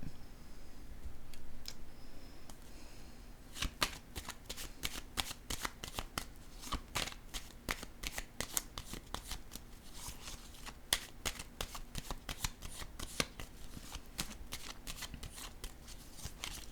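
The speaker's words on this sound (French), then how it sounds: "Je vais déposer une carte ici." Tarot cards are handled and laid down for a reading, first a soft shuffle, then a long run of crisp, close, irregular snaps and taps as cards are flicked and placed on a table, with no talking.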